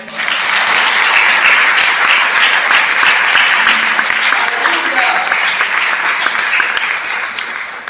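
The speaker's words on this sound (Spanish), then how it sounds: "Den un fuerte aplauso al Eterno." A congregation at a religious teaching gathering gives loud, sustained applause, a dense wash of clapping that swells early and tapers slightly toward the end, with voices mixed in.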